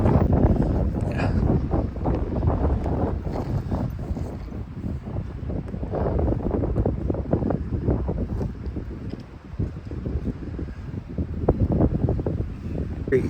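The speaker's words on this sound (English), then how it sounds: "It's kind of windy." Wind gusting across an icy overlook at Surprise Corner in Banff National Park in the off season, a steady broadband roar buffeting the microphone close up for the whole stretch, with faint voices now and then.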